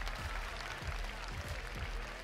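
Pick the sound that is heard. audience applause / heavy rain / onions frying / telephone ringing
audience applause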